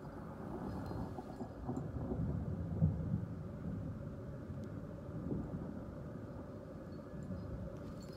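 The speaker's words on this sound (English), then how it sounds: "thunder, lightning" Thunder in Sun Valley, Idaho rolls as a low, sustained rumble that swells midway and fades again, distant and fairly faint, with no talk over it.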